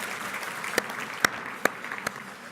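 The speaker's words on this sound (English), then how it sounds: "Give them another round of applause." Audience applause at a transportation summit luncheon, a steady patter of clapping in a room with a few louder individual claps standing out.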